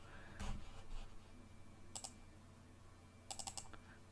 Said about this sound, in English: hit enter.